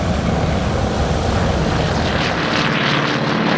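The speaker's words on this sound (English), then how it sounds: "Then followed a Junkers Ju-52 from Lufthansa." A Lufthansa Junkers Ju-52 transport aircraft flies by with a loud, continuous propeller drone and engine roar, close and dense throughout, with a slight shifting rise toward the end and no talk.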